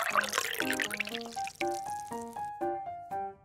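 Water pours from a tiny vessel over shrimp for rinsing in a miniature kitchen, a short splashing stream at the start that is soon buried under plucked melodic background music.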